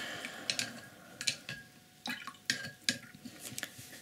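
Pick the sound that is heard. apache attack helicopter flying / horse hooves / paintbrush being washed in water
paintbrush being washed in water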